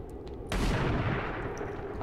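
A reaction shot goes off in the video game XCOM 2, with one sharp, loud gun blast followed by a rumbling, booming tail that lingers for over a second.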